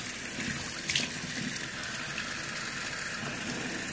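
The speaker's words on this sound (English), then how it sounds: "But hold on 1 second, let me rinse this off." Tap water running steadily in a bathroom sink while a face mask is rinsed off, a constant close gushing flow with a brief splash near the start.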